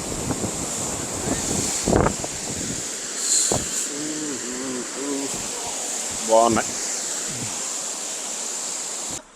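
Waterfall in Munnar rushes in a steady broadband roar, mixed with wind buffeting the microphone, while several people talk over it close by.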